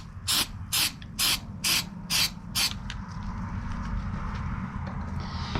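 Rubberized undercoating sprays onto a tailgate hinge of a 2001 Chevy 2500HD Silverado pickup in six short, even hissing bursts, followed by a low steady rumble of background noise.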